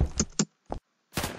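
Gunfire in the Roblox shooter Phantom Forces comes as a few quick, close, sharp reports separated by brief silences, then a longer rattling burst, with no talking.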